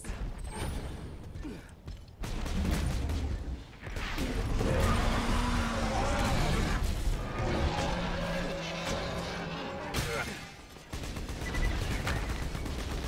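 Bursts of crashing, booming explosions in the video game Borderlands 2 with rattling debris, broken by short quiet gaps, loud and fairly close.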